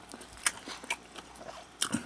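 Mini jokbal, braised pig's trotters from a supermarket, chewed close to the mic: a few sharp, crisp bites and crunches spaced through a quiet stretch, with soft mouth sounds between and no talking.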